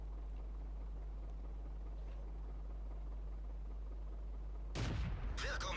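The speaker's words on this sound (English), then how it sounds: "There's another shot into the ARL." A tank cannon in World of Tanks fires once with a sudden loud blast after a long stretch of low engine hum, followed shortly by a second sharp burst of impact noise.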